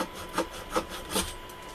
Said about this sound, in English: Been a nice handy little saw.